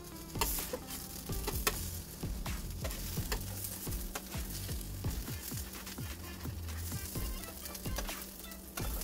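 A folded birria taco with melted cheese and oyster mushrooms sizzling in a pan, a steady close frying hiss broken by repeated scraping and tapping of a utensil against the pan.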